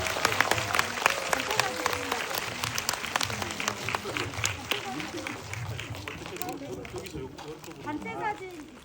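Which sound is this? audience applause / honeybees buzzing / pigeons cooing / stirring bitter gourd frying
audience applause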